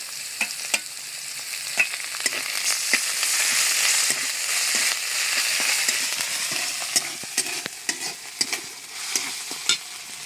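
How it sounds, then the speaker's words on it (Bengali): Spice paste with garlic and ginger paste frying in a pan: a loud, continuous sizzle broken by repeated sharp scrapes and taps as it is stirred. "এদিকে মশলাটা ভেজে নিয়েছি"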